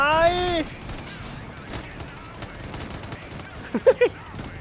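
Gunfire and rocket blasts from the Broken Arrow strategy game crackle in a steady, moderately loud background barrage, with a few sharp tonal effect sounds near the end.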